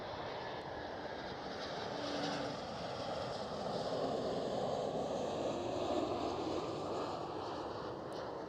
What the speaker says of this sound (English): Next one looks like an Embraer. KLM Cityhopper E190 with a Skytheme livery.